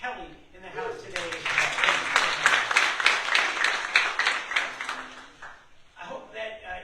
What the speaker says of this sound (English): can we please give a round of applause to Mayor Kelly in the house today?